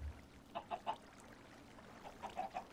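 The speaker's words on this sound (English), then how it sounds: "There's a chicken." A chicken in Minecraft with the Better Than Wolves mod clucks in two short groups of three to four clucks, fairly faint, with no talking.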